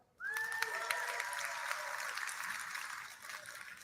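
Applause from a keynote watch party audience bursts in suddenly and holds as steady clapping for a few seconds before tapering off, with a bright electronic tone sounding at its onset.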